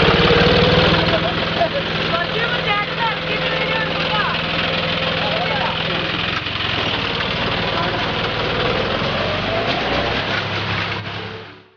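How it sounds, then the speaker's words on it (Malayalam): A tractor engine runs with a steady rumbling drone while ploughing a paddy field, continuing at an even level under a voice talking throughout. "ഡ്രൈവറുടെ സഹായത്തോടെ ട്രാക്ടർ കുറച്ചു നേരം ഓടിച്ചതോടെ ഒറ്റയ്ക്ക് ഓടിക്കാം എന്നായി"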